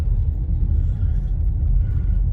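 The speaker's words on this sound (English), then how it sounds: "They got some trucks up here today" Trucks hauling snow in Mammoth during a record snow year produce a steady, heavy low rumble of nearby engines that continues throughout, with no talking.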